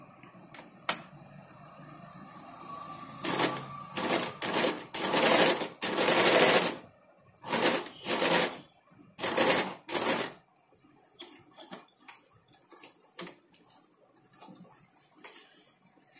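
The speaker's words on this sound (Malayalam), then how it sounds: "എന്നിട്ട് നമുക്കൊരു 1/4 ഇഞ്ചിന് നെക്ക് പോർഷൻ സ്റ്റിച്ച് ചെയ്യാം." A sewing machine stitches the square neck portion of a salwar in short bursts of rapid mechanical whirring, separated by pauses, with quiet ticking between runs and no voices.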